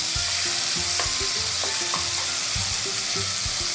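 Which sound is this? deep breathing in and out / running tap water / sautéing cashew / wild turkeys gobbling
sautéing cashew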